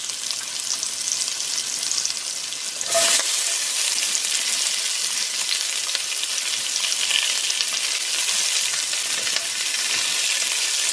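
Chunky mushrooms and onions fry in a pan with a loud, dense sizzle that flares sharply about three seconds in as more go into the hot oil, then crackles on steadily.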